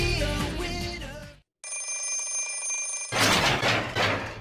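An alarm clock rings in a bright, sustained metallic tone, loud and close, framed by bursts of other noise before and after a short silence.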